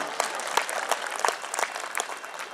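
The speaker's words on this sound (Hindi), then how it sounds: "तालियां कमजोर कर दी दोस्तों आपने" Audience applause at a live show, a steady wash of many hands clapping throughout, fairly distant and moderate in level, with a few sharper claps standing out and no one talking.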